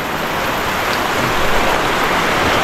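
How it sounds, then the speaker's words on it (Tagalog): Heavy rain pours down steadily during a low-pressure storm, a loud, dense hiss of drops hitting surfaces with no pauses or voices. "sobrang lakas ng ulan"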